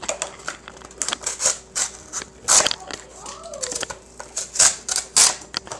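A Ganzo F7551 folding cleaver chops across the grain of cardboard with rough, rhythmic crunching cuts repeating steadily. A brief voice briefly surfaces midway.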